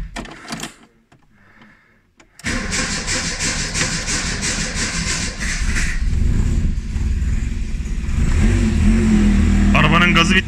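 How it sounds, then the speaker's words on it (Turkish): An 850-kilo car running on gas fires up after a quiet pause of about two seconds, then its engine grows louder and revs harder toward the end, with voices heard over it. "Bir arabamızı çalıştıralım bakalım."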